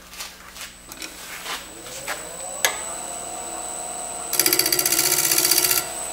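A skew chisel scrapes a turned wooden salt or pepper cellar on a lathe, starting as soft rasping strokes, then the motor whines rising in pitch before a steady, loud buzzing cut takes over near the end, close up with no voices.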